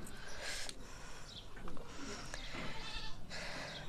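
A village goat bleats faintly while being readied for milking, with soft voices nearby and scattered rustling.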